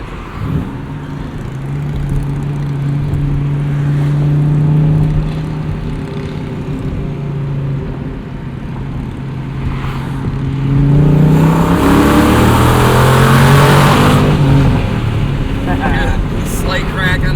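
A 2004 Pontiac GTO V8 accelerating under a bridge, a steady engine drone heard from inside the car that swells into a louder, echoing rise, with voices talking over it.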